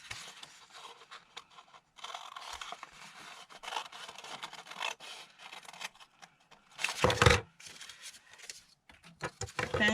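Scissors snip and scrape through paper in a quiet craft setting, with soft intermittent cutting strokes close by and a louder rustle of paper near the end.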